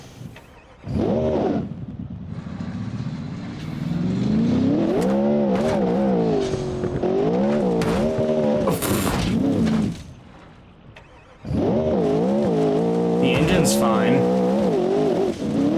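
Engine of a custom-designed car in the driving game BeamNG, rising and falling revs in loud bursts separated by brief gaps, with high tire squeal in places and a voice speaking over it.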